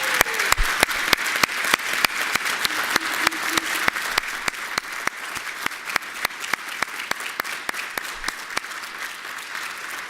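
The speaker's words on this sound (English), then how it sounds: "let us have one more round of applause for our graduating seniors and future servicemen and women." An audience at an armed services ceremony gives graduating seniors a sustained round of applause, dense and steady clapping that fills a large hall.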